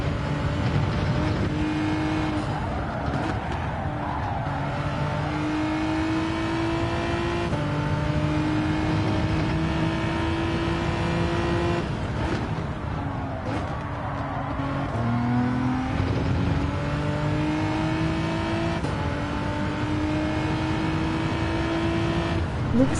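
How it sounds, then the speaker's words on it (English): Steady GT3 race car engine from a racing video game, droning loud and close throughout with rising and falling pitch through gear changes, no talk over it. "Looks like a solid GT3 car."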